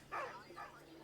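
Dog whining in a video game, two short, faint, high-pitched whimpers a moment apart.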